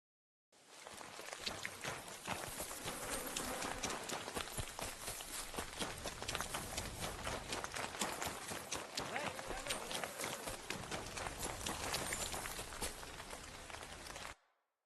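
Horse hooves clip-clop at a steady running pace in the video game Kingdom, a dense, continuous patter of quick beats close up under game ambience.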